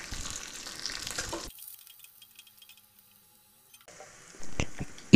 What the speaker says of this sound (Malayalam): അതിലേക്ക് കടുക്, പച്ചമുളക്, കറിവേപ്പില, എണ്ണ വെച്ചിരിക്കുന്ന മുളക് ഇട്ട് വഴറ്റുക.